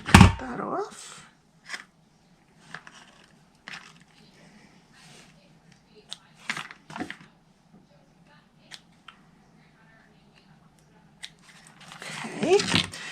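Scissors snip through polka dot tulle ribbon tied around a craft box, a few short crisp cuts scattered among quiet rustling and handling, close and fairly soft.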